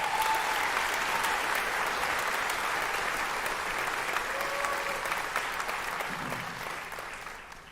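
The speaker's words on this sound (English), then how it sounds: "Big round of applause for them." Sustained applause from a graduation ceremony audience at a high school academy, dense steady clapping from a large crowd that slowly fades toward the end.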